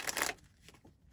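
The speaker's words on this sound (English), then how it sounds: "Okay, this is the last shuffle." A deck of tarot cards gets a final riffle shuffle, a brief burst of quick papery flutter at close range that stops after a moment, leaving quiet room tone.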